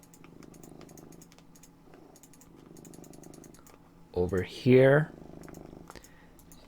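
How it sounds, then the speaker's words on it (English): A cat purrs steadily up close while someone types on a computer keyboard at a PC game, the low rhythmic purr pulsing beneath the clicking, broken by a short burst of loud game sound and a brief spoken phrase. "And I have a cat on me who's purring rather loudly."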